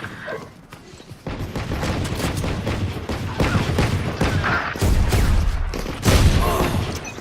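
Gunfire from the Valorant video game plays in rapid bursts of sharp shots and booms, dense and fairly loud throughout, with some heavier impacts near the end.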